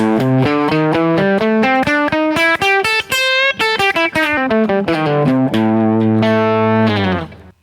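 Overdriven electric guitar runs up a blues scale across two octaves and back down, notes plucked in a steady brisk rhythm before a final ringing note fades.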